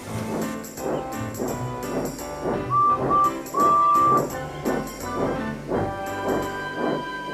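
A steam whistle on Duck the tank engine gives two short peeps over a rhythmic musical backing.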